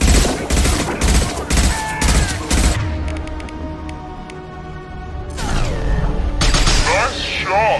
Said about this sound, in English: Impact shot.